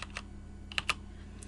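Soft clicks of a computer keyboard, a few scattered keystrokes with two sharper taps, quiet with a low steady hum underneath.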